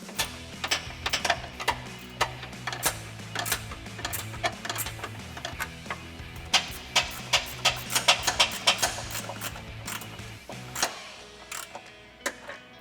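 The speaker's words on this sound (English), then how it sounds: "Next, we're going to tighten down our lower bracket nuts with an 11mm wrench." An 11mm wrench tightening rock rail bracket nuts on a Jeep Gladiator JT, giving a long run of quick, sharp metallic clicks and ratcheting ticks at close range, uneven in rhythm with brief pauses.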